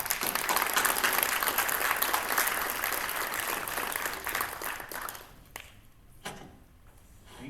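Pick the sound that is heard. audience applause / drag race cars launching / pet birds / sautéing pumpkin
audience applause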